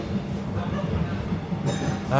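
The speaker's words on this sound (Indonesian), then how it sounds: "Lucu sekali akhirnya bisa ngerasain naik kereta di Sumatera Barat dong." A Minangkabau passenger train running in West Sumatra, heard from on board as a low rolling rumble with rhythmic wheel clicks and faint clinks, while a voice talks over it.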